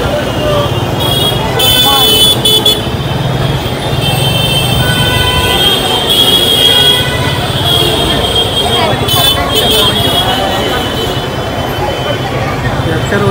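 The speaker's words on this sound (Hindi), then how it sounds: "यहाँ पे यार बहुत ट्रैफिक है यार." Heavy traffic noise fills a crowded Mumbai street, Mohammed Ali Road during Ramadan, a loud continuous roadway rumble with occasional horn toots and voices chattering throughout.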